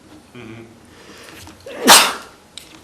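A single sharp sneeze bursts out during a conservation commission meeting, loud and close, preceded by a brief murmur of voices in the background.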